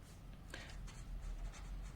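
A teacher writes out a polynomial, most likely chalk on a board, in a faint, quiet stretch of soft scratchy strokes with a few short bursts and no talking.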